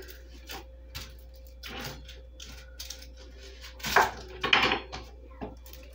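A knife cuts through half an onion on a board, with sparse, irregular taps and crisp slicing clicks, clustering into a louder burst near the end against a quiet kitchen background.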